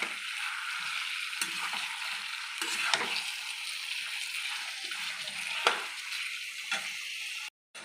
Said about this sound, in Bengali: এবার আমি এই তেলটার মধ্যে মাংস দিয়ে চিকেনগুলো অনেকক্ষণ ধরে ভাজবো।